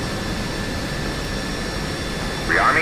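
Jet engine roar inside the DCS World combat flight simulator during a carrier-group air battle: a steady, loud broadband drone with a thin high whine throughout, and a brief radio-like voice bursting in near the end.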